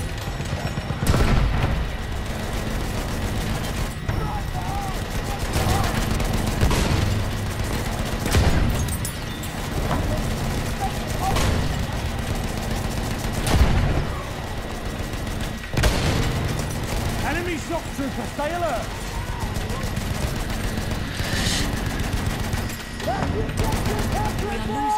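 Gunfire rattles through a Battlefield 1 gas assault match, with repeated bursts, scattered pops and occasional heavy booms at varying distances, running continuously while a player talks over it.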